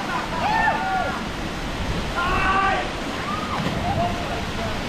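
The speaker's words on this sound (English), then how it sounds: "Right in front of the waterfall." Steady roar of a waterfall in the Utah canyon country, close by and continuous, with voices talking over the rushing water.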